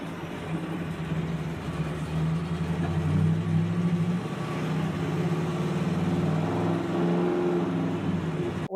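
Custom-built truck on a test drive, its engine droning steadily with gentle rises in revs, heard from inside at moderate level with no talking.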